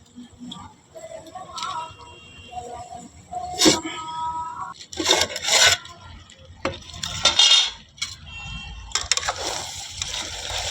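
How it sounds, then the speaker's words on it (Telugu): Tomatoes cooking in a pot on a wood-fired stove for spicy mutton curry, stirred with a utensil in irregular metallic scrapes and clinks over a low bubbling background, some strokes loud and close. "ఇప్పుడు టమాటాలు ఉడకాలి."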